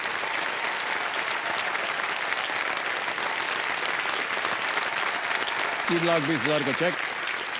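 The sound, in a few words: studio audience applause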